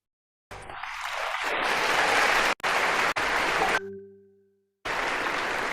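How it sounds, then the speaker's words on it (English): Loud crowd applause at a youth festival swells up, is cut off abruptly several times, and a short tonal chime sounds in a gap before the clapping resumes. "round of applause"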